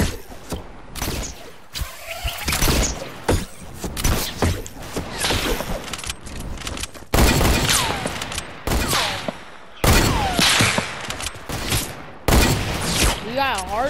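Rapid Fortnite gunfire crackles in dense bursts and volleys throughout, loud and close, with players talking over the shooting.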